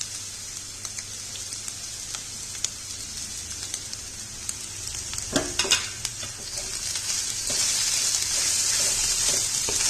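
Mashed boiled potatoes with masala sizzle in a pan as they are stirred, a steady hiss with a few soft scrapes in the middle, growing slightly louder and brighter toward the end, with no talking.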